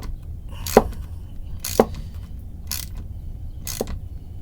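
A nut being tightened onto a guitar potentiometer during hardware installation, heard as four evenly spaced, dry metallic ticks about a second apart, close and moderately loud over a steady low hum.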